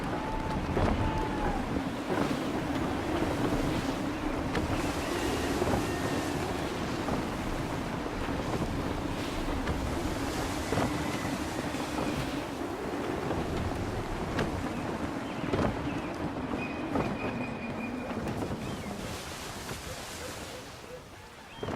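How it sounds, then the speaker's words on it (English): Gusty wind roars and waves wash steadily around a sailing ship at sea in Assassin's Creed III, a constant loud rush with creaks and splashes throughout. "Gusty winds can be difficult to manage."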